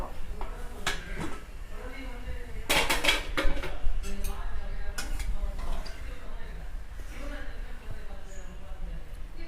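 A pressure cooker of chicken biryani is opened in a home kitchen, with metal lid clanks and utensil clatter rising in a cluster midway, then scattered lighter clinks over steady background noise; a person talks throughout.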